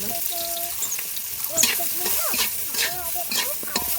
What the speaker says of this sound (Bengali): ওই তেলে আমি সয়াবিনগুলো একটু ভেজে নেব সামান্য একটু লবণ এবং হলুদের গুঁড়ো দিয়ে